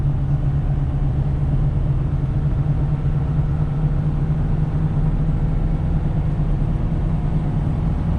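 A 2021 Ford F450 pickup with a turbo diesel engine under way, giving a steady, even low rumble and drone that holds without change throughout, no talk.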